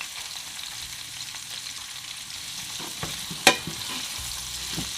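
Chicken sautéing in a pot for Jamaican-style brown stew gives a steady, gentle sizzle and crackle, with one sharp clink partway through and no voices.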